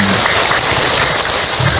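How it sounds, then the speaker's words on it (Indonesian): An audience claps briefly at an Islamic lecture on being a noble wife, a dense patter of hands steady and fairly loud for a couple of seconds. "tepuk tangan sekali lagi Ibu untuk Ahilman."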